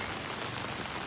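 Steady rain falls during a storm in a Thai town. It makes a brief, even, hissing wash at moderate distance, with no voices.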